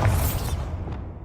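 A Bombarda explosion spell from Hogwarts Legacy goes off as a single loud, close blast. A deep rumble follows, then a crackling tail that fades out over about a second.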